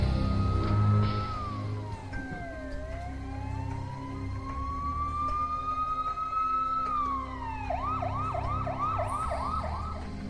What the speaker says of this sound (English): The sound of police sirens is heard.